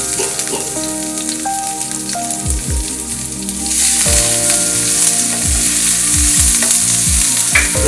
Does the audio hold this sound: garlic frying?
yes